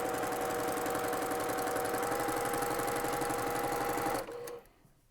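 A sewing machine back stitches a quarter-inch seam with cotton thread in a close, steady, rapid mechanical whir, then slows and stops near the end.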